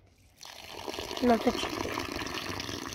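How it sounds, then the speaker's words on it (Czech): Water runs from a tap to fill a container outdoors, a soft steady gush that starts after a quiet moment and continues throughout, with a brief voice-like sound partway through. "natočíme vodu"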